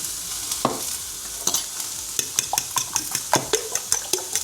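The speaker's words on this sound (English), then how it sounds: "So frying these courgettes is the way forward." Steady sizzling of courgettes frying in a pan, with irregular scrapes and clicks of a utensil stirring, close by and without speech.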